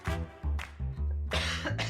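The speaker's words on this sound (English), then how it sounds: "I'm going to cough" A person coughs several times in quick succession, close and fairly loud, in short harsh bursts with brief pauses between them and no talking.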